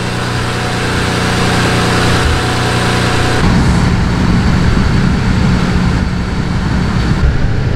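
A BMW N54 twin-turbo engine idles steadily after a turbo replacement, a loud, close, continuous rumble whose tone roughens and deepens partway through, with no voices over it.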